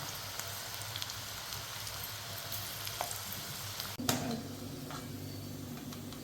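Bitter gourd pakoda deep frying in hot oil at medium heat, a steady crackling sizzle throughout, with a sharp clatter near the middle as more batter drops in and the bubbling swells.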